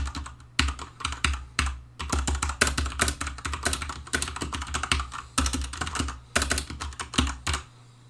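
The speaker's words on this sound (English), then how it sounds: "play back at the same volume level the Cherry MX switches on my Corsair K70" Cherry MX mechanical switches on a Corsair K70 keyboard typed at a steady, quick pace, with dense, crisp clicks and clacks close to the mic, a few brief pauses between runs and no talk.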